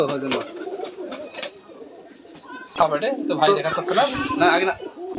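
Rajshahi Giribaz pigeons at a pigeon farm coo in low, throaty, repeated rolls nearby, while someone talks over and between the calls.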